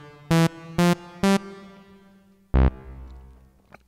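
Tones played through the Hall reverb effect of an X5D effects processor. Three short, evenly spaced tonal notes are followed by a lower, stronger hit, and each one leaves a trailing reverberant decay.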